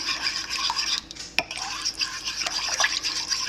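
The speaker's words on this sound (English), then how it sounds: "Okay, I'm gonna mix this up. Mix, mix, mix." A spoon stirs and mixes a recipe in a bowl, scraping and clinking steadily at close range.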